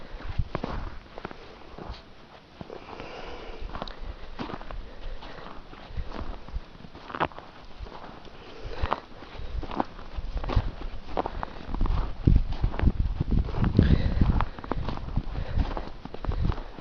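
Horses move about in deep snow after a Maryland blizzard, giving a steady run of soft, muffled crunching steps close by that grow louder and heavier toward the end.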